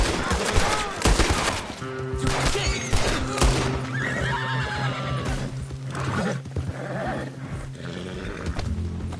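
A horse neighs and whinnies repeatedly over busy sound effects in the video game Red Dead Redemption 2, with hoofbeats clattering and some indistinct voices mixed in.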